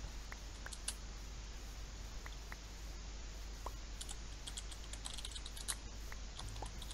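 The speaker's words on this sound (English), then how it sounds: "I can hear you typing." Keyboard typing at a computer, quiet and steady in the background, with scattered faint key clicks over a constant low hum and no talk.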